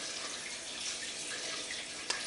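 Water drips and trickles steadily off a wet 11 by 14 darkroom print in a continuous, close patter, with one sharper drop near the end.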